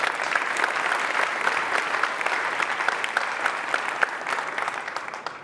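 Steady applause from a conference audience thanking the event's sponsors at the opening of hub.berlin, a dense, even wash of clapping that holds loud for the whole stretch before tapering slightly at the end.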